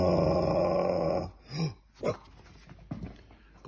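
Puppies growling and grunting as they tug at a bacon and eggs plush toy: a long low growl, then several short snarling bursts close by, with no talk.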